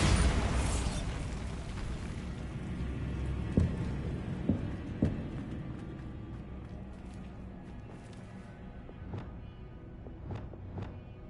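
A Bombarda spell explosion in the Hogwarts Legacy video game: a loud close blast that rumbles and decays over several seconds, followed by scattered pops and crackling debris.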